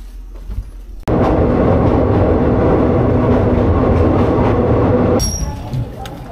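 A train rolls through Chumphon railway station in Thailand, a loud, close, steady rumble and rattle that starts abruptly, holds for about four seconds, then cuts off, with quieter station ambience around it.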